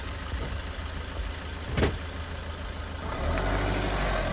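A car engine idles and hums steadily as the car is turned around, a low continuous drone with a brief sharp noise in the middle and a slight rise in level near the end.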